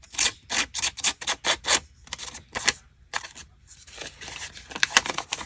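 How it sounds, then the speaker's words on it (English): Paper drawn repeatedly through the V of a pair of scissors to rough up its cut edge for a junk journal, giving a run of close, crisp scraping and crinkling strokes in quick bursts with short pauses between them. "run that paper through the V of my scissors just to rough that edge up a bit"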